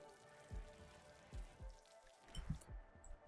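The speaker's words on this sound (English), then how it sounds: "A freak small-scale hailstorm is ravaging the nearby area." A small freak hailstorm in RimWorld patters steadily and faintly, with scattered soft ticks and a few low thuds over quiet background noise.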